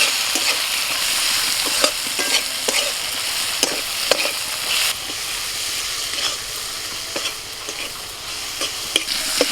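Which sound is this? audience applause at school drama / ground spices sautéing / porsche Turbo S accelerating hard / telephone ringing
ground spices sautéing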